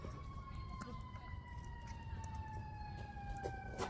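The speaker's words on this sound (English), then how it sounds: "It's an ambulance." An ambulance siren outside wails in slow, rising and falling sweeps, faint and distant but steady for the whole stretch.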